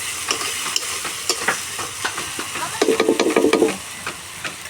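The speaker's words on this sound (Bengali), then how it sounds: "মশলাগুলো দিয়ে ভালো করে কষিয়ে নিচ্ছি" Spice paste fries in oil on a clay stove while being stirred and scraped, a steady sizzle broken by quick spatula strokes that grow into a dense burst of scraping near the end.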